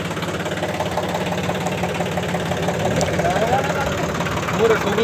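A tractor engine idles with a steady, rumbling, knocking chug that runs evenly throughout and grows slightly louder near the end, with voices faintly audible in the background.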